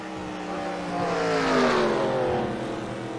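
Simulated race car engines in the eNASCAR Heat video game at Las Vegas: a steady, buzzing engine drone that swells to a peak and eases slightly, heard alone and close.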